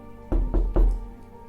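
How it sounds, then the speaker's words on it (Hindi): Three heavy, booming thuds in quick succession land close and loud as someone pounds on a drawing-room door, each blow short and dull with a brief ring after it, with no voices. "फिर ड्राइंग रूम का दरवाजा पीटने लगा"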